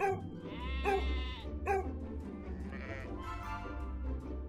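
Sheep bleat on a hilly farm, several loud, wavering calls in quick succession near the start, then softer bleats over a low steady background hum.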